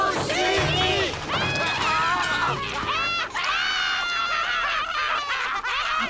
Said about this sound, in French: Des bruits, des claques, des coups et des cris.